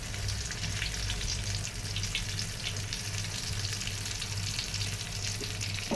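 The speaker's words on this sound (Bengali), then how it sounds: "এই যে পার্ট বাই পার্ট এটার উল্টে উল্টে আমি ভাজবো" Eggplant pieces fry over low heat in a pan, a dense continuous sizzle close by with a low steady hum underneath and occasional crackles as the pieces are turned.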